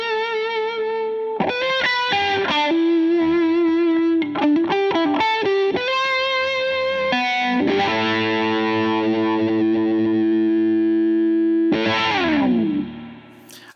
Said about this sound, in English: It's got a boost over here that you can just kick in on the side.